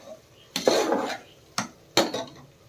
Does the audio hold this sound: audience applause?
no